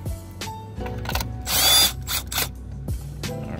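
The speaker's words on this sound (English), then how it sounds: "we're going to go ahead and loosen up the battery clamp" A ratchet loosening the battery clamp on a 2014 Ford Taurus, heard as short bursts of mechanical clicking with a brief louder rattle in the middle, close by and with no talking.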